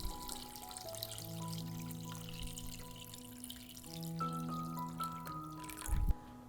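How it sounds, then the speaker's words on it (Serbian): Water is poured into a pot holding glass jars for pasteurising, a steady gentle splash and trickle up close that ends in a brief louder burst. "Sipam vodu u šerpu do visine poklopca."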